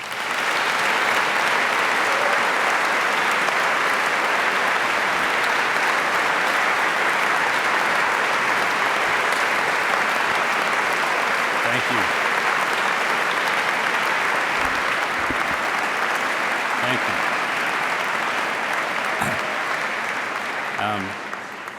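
A lecture audience gives sustained, loud applause as speaker David Brooks is welcomed, steady dense clapping from a large hall that holds for about twenty seconds before tapering off.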